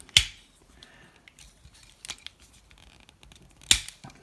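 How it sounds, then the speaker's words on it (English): Plastic parts of a Transformers Legacy Leader Class Blitzwing toy click into place, with three sharp, close snaps spaced a couple of seconds apart and faint handling rustle between them, no talking. "Just make sure everything clicks into place."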